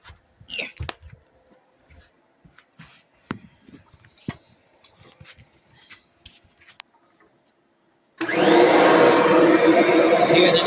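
A Kirby vacuum cleaner starts up after quiet handling clicks and small knocks, then runs loud and steady with a dense whine and rush close to the microphone.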